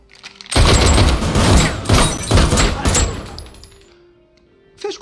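Rapid bursts of gunfire in a superhero action scene, loud and dense, several volleys in quick succession that fade out before a short final blast.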